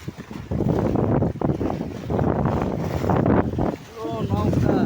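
Strong storm wind and rough waves on the Padma river roar around a boat in dense, continuous gusty noise, with a person talking over it.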